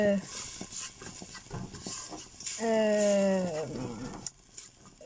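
Ingredients frying in a pan with a soft sizzle and scraping stirring strokes, close up, while a voice speaks briefly over it.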